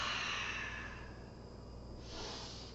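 A long, steady exhale during yoga practice, a soft airy breath that fades mid-way and then swells again, close and quiet with no talking.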